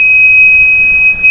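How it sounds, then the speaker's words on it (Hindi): An old emergency light rewired as a buzzer sounds a loud, continuous high-pitched electronic tone when mains power returns, steady throughout with a brief dip near the end. "ये दोबारा मैं इसे सॉकेट में लगा रहा हूँ, तो ये लाइट आने का बज़र देगा।"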